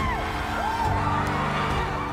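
A crowd at a disabled handball league match cheers and shouts, a dense, loud, continuous roar with rising whoops and yells throughout.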